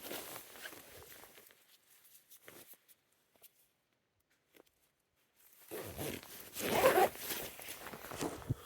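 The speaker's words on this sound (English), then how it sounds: "I'm gonna set you down to zip up my jacket here before I go much farther." A jacket being zipped up outdoors on a wooded lot: soft rustling and a few faint zip strokes early, a quiet pause, then a louder, closer burst of zipper and fabric noise toward the end.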